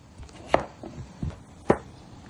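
A knife chops potatoes on a cutting board: two sharp, loud strikes and a few softer taps in an irregular rhythm, close by in a quiet room.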